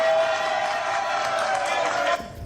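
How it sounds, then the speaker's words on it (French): Sustained audience applause with crowd cheering at a punk event, a dense steady wash of clapping that cuts off sharply near the end. "applaudissements"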